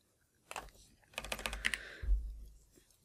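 Keystrokes on a computer keyboard while code is written in a programming editor, a quick irregular burst of close, crisp taps followed by a louder thump and a softer trailing click.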